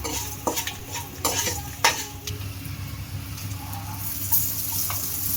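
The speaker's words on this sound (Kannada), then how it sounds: "ಕರಿಬೇವು ಸ್ವಲ್ಪ ಹಾಕ್ತಾ ಫ್ರೈ ಮಾಡ್ತಾ ಹೋಗಿ" Curry leaves fry in a pan with a soft continuous sizzle, broken by several sharp clinks and scrapes of a spoon stirring against the metal, close and alone.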